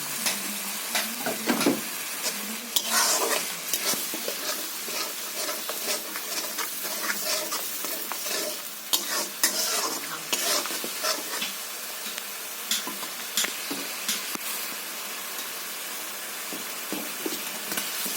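Masala with potato frying for a fish curry, stirred in a pan with repeated scraping strokes of a spatula over a continuous soft sizzle, fairly close and steady throughout.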